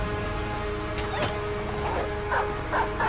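A dog barks and yips in the video game Battle Brothers, several short barks over a steady humming game soundtrack.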